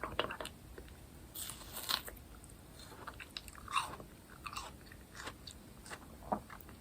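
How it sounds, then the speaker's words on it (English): Close, quiet bites and wet crunchy chewing of juicy watermelon, irregular crisp crunches spaced across the clip with no talking. "I wonder if watermelon sounds better for ASMR because it's a bit more like crunchy."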